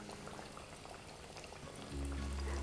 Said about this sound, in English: as you can see, we've got a nice little simmer